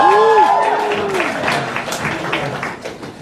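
A convention audience applauds guests at a pony fan festival opening ceremony, the clapping loud and close with an announcer's voice at the start, then thinning out.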